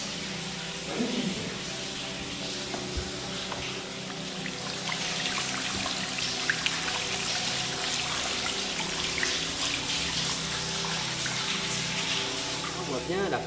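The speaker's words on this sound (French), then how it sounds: "Cascade." A waterfall inside an old mine pours as a constant, rushing splash, steady and fairly loud throughout, echoing slightly in the underground space, with faint voices mixed in.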